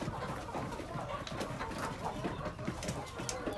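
Chickens cluck inside a coop, a faint, busy mix of short clucks and rustling that runs continuously in the background with no voices.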